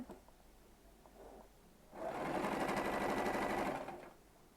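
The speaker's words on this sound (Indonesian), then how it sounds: "kita menjahit ini hanya sampai di batas patah kerah" Sewing machine stitching a shirt collar, starting after a quiet pause and then running in a fast, steady, close whir for about two seconds before stopping, with no talking.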